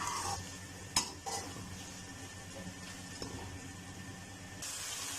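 Capsicum is stirred and roasted with spices in a pot over a faint continuous sizzle, with a few clinks of a spoon against the metal rim and a brief hiss toward the end.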